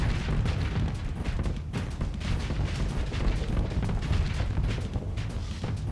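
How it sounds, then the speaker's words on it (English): Space combat in Starsector fills the air with rapid overlapping booms and blasts, a dense continuous barrage of explosions and weapon fire without any speech. "But I guess that's all just explosions, so it's fine."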